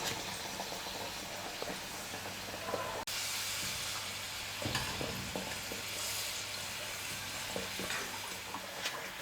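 Onion and wheat-flour kachori frying in hot oil over a medium flame, a continuous bubbling sizzle and hiss that holds steady at close range with a brief louder crackle partway through.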